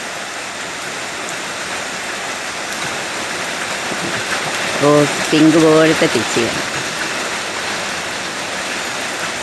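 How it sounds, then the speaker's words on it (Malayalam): Steady summer morning rain falls on a garden of flowering plants, a continuous broad hiss throughout, with someone speaking briefly near the middle. "ഇപ്പം അത്യാവശ്യം പെയ്യുന്നുണ്ട്"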